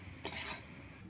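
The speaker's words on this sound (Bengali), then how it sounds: "আলুটাকে ভেজে নিচ্ছি।" Potatoes frying in a pan for a picnic meal, with a brief stirring scrape over a faint sizzle, quiet and over within a second.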